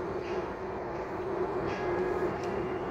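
A Toulouse metro Matra VAL 206 train rolls along with a steady, even rumble and a constant hum from close by, with no voices.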